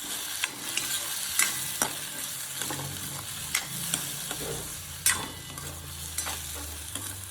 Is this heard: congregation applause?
no